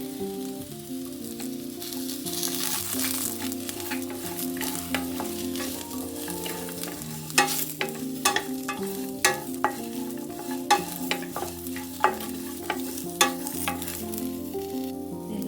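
Grated coconut and cumin fry in a pan for a village-style spiced rice mix, with a soft steady sizzle and occasional sharp clinks of a spoon stirring against the pan, close by with no talking.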